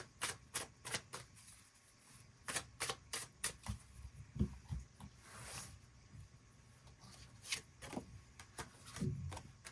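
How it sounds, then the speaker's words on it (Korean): Tarot cards shuffled and drawn by hand, a quiet series of quick papery flicks and snaps coming in irregular bursts, close and dry with faint room noise between. "그 부분 추가 카드 뽑아보도록 하겠습니다"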